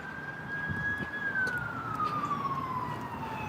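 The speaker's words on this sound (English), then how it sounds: "Oh, sirens are so piercing when they go right by your ear." An ambulance's wailing siren sweeps past close by, its pitch sliding downward as it goes, over a steady rumble of road traffic.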